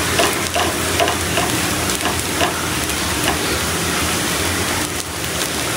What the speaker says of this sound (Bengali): এখন হচ্ছে এগুলো তেলে নিব।